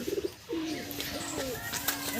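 Pigeons coo in a soft, rolling series of calls from a nearby loft, with a brief burst of chirping at the start.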